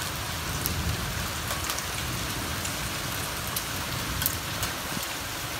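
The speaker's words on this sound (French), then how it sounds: "Orage de grêle" Dense, steady patter of hail during a thunderstorm in Valence, Drôme, with scattered sharper impacts ticking through the constant hiss.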